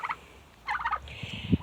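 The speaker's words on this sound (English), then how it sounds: "you can probably hear the turkeys down here" Turkeys on a homestead gobble in short, warbling bursts, one call answering another at moderate distance, with soft lower clucks from other fowl in the background and no talking.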